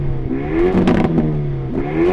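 Renault Megane RS Trophy hot hatch engine revving loudly up close, a throaty rise and fall with crackling pops and bangs on the overrun.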